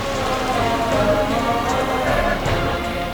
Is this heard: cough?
no